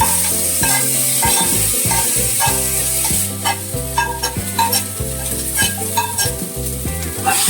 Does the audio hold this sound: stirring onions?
yes